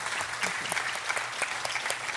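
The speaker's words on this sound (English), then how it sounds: "let's give Professor Mycoo another round of applause, please" An audience applauds at the close of a professorial inaugural lecture, a brief burst of steady, fairly close clapping from many hands without speech.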